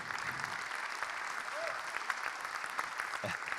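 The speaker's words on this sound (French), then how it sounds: "Applaudissez tous les mentors ici présents." Audience applause for the mentors at the launch of the 15th Spring Campus, steady dense clapping filling the whole stretch at moderate level, with a brief faint voice or whistle-like tone partway through.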